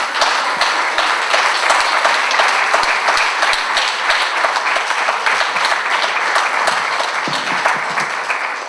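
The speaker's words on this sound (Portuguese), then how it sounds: "com os vossos aplausos, chamo" Steady, full audience applause welcoming a fado singer in a parish hall, many hands clapping continuously and loudly for several seconds before easing slightly at the end.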